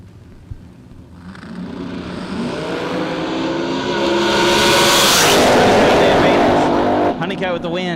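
A supercharged short-wheelbase drag racing car with a big blower launches at a drag strip, its engine roaring louder as it accelerates past, with a track announcer talking over the noise.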